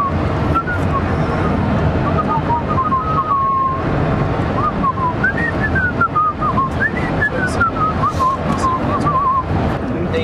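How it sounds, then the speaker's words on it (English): A person whistles a wavering melody, clear and fairly close, over constant road or wind rumble and some background voices, in a moving vehicle on tour near Baton Rouge. "Someone just whistled that melody."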